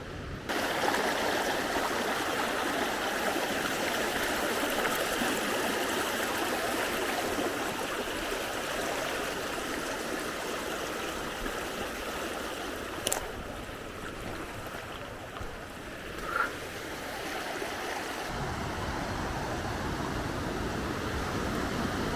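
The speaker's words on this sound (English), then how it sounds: "this is the river, really very strong stream, which I can't swim across" Strong winter river in Coquitlam, BC, rushing as a steady broadband roar of flowing water, close and continuous, with no talking over it.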